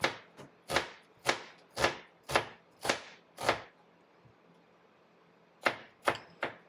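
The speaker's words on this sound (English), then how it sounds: "now we slice the onion. Slice it thinly." A knife thinly slices an onion on a cutting board in crisp, evenly spaced strokes, seven in a row, then a pause and three more, close and clear with no talking.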